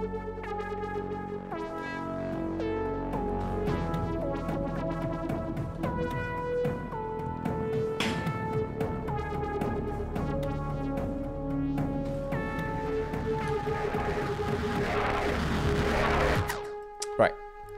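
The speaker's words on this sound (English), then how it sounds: "the main synth and the bass are gonna sound something like this." A sustained synth chord from a dramatic remix of a song from High School Musical 3 plays over a thick, distorted bass line that grows grittier on note changes, steady and loud throughout with no voices.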